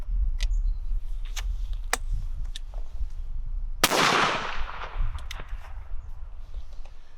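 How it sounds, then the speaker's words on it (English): Single shotgun blast from an old, fragile English side-by-side firing steel shot, a sharp loud report with a lingering outdoor echo, set among scattered clicks and rustles of handling. "we've put a box of ammunition through an old and fragile English gun"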